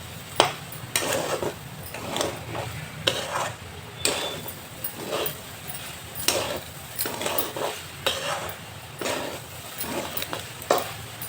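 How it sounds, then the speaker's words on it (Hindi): Coconut laddu mixture of grated fresh coconut being stirred and roasted in a kadhai, with repeated sharp spoon scrapes and clinks against the metal pan over a low, steady cooking hiss. "तो एकरा के चलाते हुए आराम से भूज लेवे के बा।"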